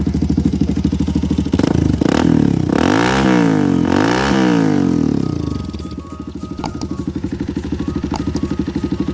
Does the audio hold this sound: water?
no